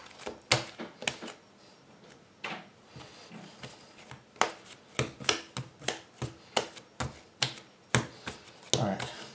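Baguette dough kneaded by hand for about three minutes, giving a run of repeated slaps and thumps on the work surface in a steady rhythm, close and fairly loud, with no talk over it.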